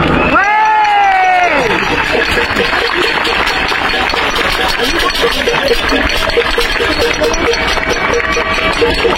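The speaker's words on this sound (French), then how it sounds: "je vous demande de l'applaudir" Crowd at a Paris street demonstration held by Les Patriotes on 27 May 2023 cheers and applauds, a dense, sustained wash of clapping and shouts that stays loud throughout, with a voice speaking over the first second or two.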